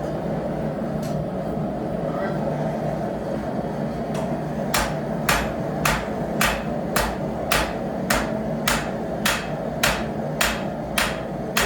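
A hammer strikes a nail on an anvil in a rapid, steady run of ringing metallic blows over a constant low mechanical hum, following a few slower taps earlier on.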